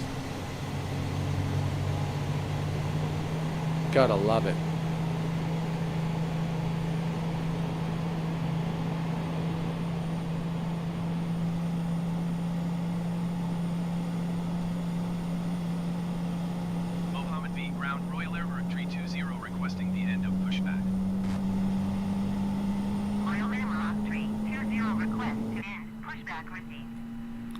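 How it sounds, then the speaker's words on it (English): Steady whine of A320neo airliner engines in a Microsoft Flight Simulator 2020 flight at Casablanca, a rising tone over a constant hum, with brief talk near the start and a short voice at the end. "Listen to the engine sounds."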